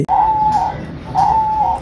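Young pet birds call close by: two clear, drawn-out tonal coos, each sustained for about half a second with a short gap between, loud and alone.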